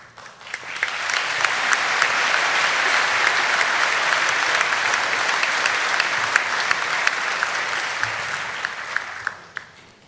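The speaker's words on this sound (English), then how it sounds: "Don't usually get a round of applause for that bit" Audience applause at a 2023 graduation ceremony as a department's class is presented: sustained, dense clapping from a large crowd that swells in quickly, holds steady for about eight seconds and fades out near the end.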